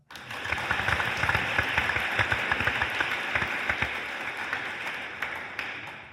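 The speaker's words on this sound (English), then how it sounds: "Round of applause for Zach." Audience applause at a celebratory signing day for an athlete: a dense, steady round of clapping that holds at an even level for about six seconds, with individual claps popping out near the listener.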